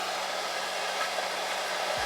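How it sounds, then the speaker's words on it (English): Steady, loud broadband whoosh of a blow dryer on its cool setting, blowing air along a hairline during a lace wig install, continuous for the whole stretch with no talk. "I'm gonna put my blow dryer on cool and just run a little bit of air along my hairline."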